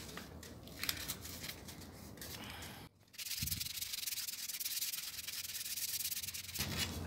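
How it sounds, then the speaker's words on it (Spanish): Hand sanding a Harley-Davidson motorcycle part with 120-grit sandpaper, quiet rhythmic scratchy strokes close up, a short pause midway, then continuous rubbing resumes. "vamos a continuación a comenzar a lijar con nuestra lija"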